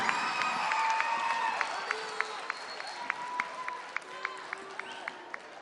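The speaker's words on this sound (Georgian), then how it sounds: "აპლოდისმენტები" Audience applause at a televised talent show, with clapping and crowd noise under sustained tones and regular sharp, rhythmic claps or beats, moderately loud throughout.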